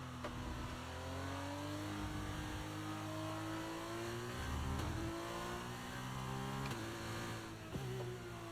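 F2 race car engine in the F1 23 game at Singapore, a steady sustained drone with shifting harmonic pitch as the throttle is fed in gently, constant and moderately loud throughout.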